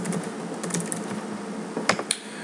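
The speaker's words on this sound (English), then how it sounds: "so we could type in Facebook" Typing on a computer keyboard: a close run of quick, light key clicks with a few sharper taps near the end.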